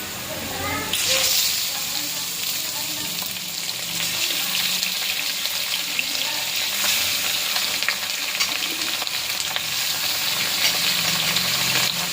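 Washed chicken pieces tossed into hot oil for a chicken gravy give off a loud, steady sizzle lasting throughout, broken by scraping stirs and occasional spatters, with a faint voice briefly at the start.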